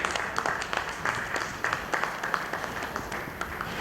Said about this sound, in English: A big round of applause for a wonderful day